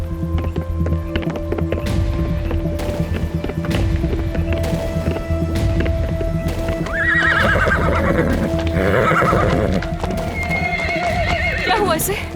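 A sick horse named Aris neighs and snorts repeatedly amid steady clip-clopping hooves, the whinnies rising loud toward the middle, with people talking over the scene.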